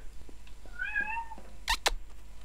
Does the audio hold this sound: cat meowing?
yes